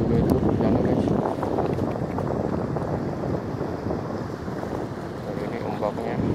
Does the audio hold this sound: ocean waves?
yes